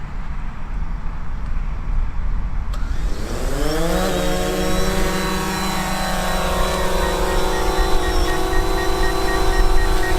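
Small drone with a previously loose, rattling arm spins up its motors: a sharp click, then rising whine climbing in pitch and settling into a loud, steady multi-tone hum as it lifts off and hovers nearby.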